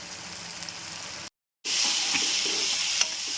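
Onion paste, ginger-garlic paste, green chillies, cinnamon and cloves fry in oil for a country chicken gizzard fry, giving a steady close sizzle with stirring scrapes. A brief gap of silence falls midway, and the sizzle comes back louder.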